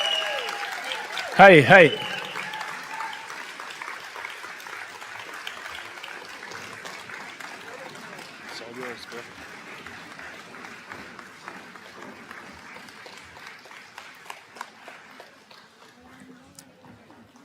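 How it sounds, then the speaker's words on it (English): A standing ovation for a Pulitzer Prize winner at a live discussion event: a loud voice greets briefly near the start, then steady, moderately quiet clapping continues and gradually fades. "standing ovation for our Pulitzer Prize winner"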